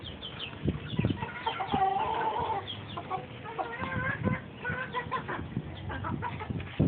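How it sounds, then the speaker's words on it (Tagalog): Several chickens cluck and squawk agitatedly while fighting over bread, with sharp scuffling noises and flurries of calls in a restless, ongoing commotion at moderate distance. "Ito yung mga manok namin na nag-aaway ngayon."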